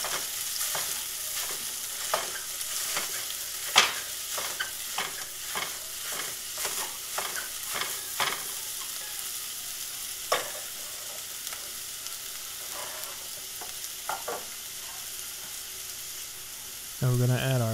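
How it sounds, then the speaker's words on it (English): Ground meat browns in a hot oiled pan for biscuits and gravy, a steady close sizzle broken by frequent scraping stirs and chopping taps, with a brief louder clatter near the end. "we can put the meat in there and start getting that fried up"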